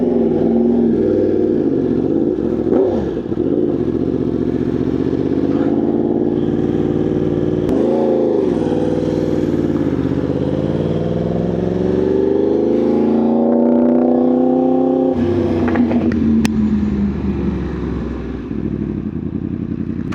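Yamaha R1 sport bike, 2025 model, with an aftermarket exhaust and ECU flash, riding under load: a loud continuous engine drone with rising and falling pitch as it revs up, shifts and accelerates, close and alone without talk.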